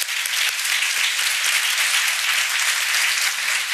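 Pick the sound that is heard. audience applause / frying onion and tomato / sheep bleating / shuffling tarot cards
audience applause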